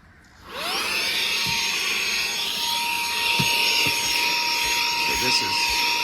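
An AUXITO 14000Pa cordless car vacuum switches on and spins up to a steady high-pitched whine that runs loud and continuous, with faint rubbing and bumping as it works over car carpet.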